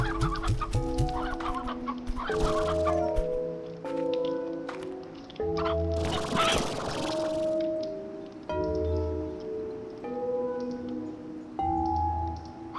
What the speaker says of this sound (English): You can have all these chickens to eat